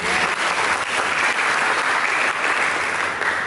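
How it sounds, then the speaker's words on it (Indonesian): A church congregation claps for God during a sermon, loud sustained applause from many hands at close range, steady throughout. "Berikan tepuk tangan bagi Tuhan"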